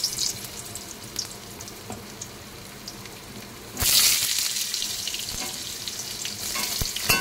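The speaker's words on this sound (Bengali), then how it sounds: "এর মধ্যে আমি আলুগুলো ভেজে নেব।" Potatoes fry in oil with salt and turmeric, a soft crackle that suddenly bursts into a loud, bright hiss as they hit the hot pan, then keeps sizzling steadily up close.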